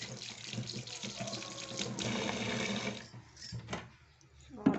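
Corn silk is washed by hand with water, giving soft splashing and trickling close by. It is fairly faint and settles into quieter rustles before one sharper splash at the end.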